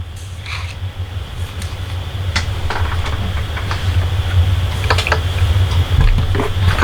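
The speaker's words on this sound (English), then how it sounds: "I'm going to bring over my Stampin' Cut and Emboss machine one more time." A Stampin' Cut and Emboss die-cutting machine cranks steadily, with a continuous low grinding rumble and scattered small clicks and taps building slightly louder over several seconds.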